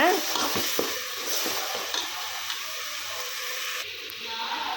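Ginger garlic paste sautés in a pan for a home-cooked curry feast, a steady close sizzle with some scraping stirs, while a voice talks over it at the start.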